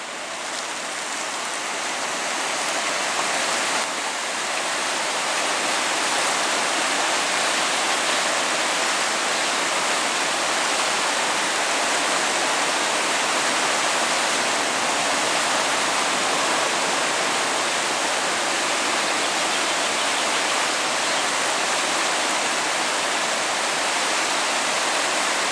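Steady, loud rush of the Bystrzyca Dusznicka river flowing under a bridge near Szczytna, Poland, swollen after storms and downpours, a dense unbroken roar throughout with no voices.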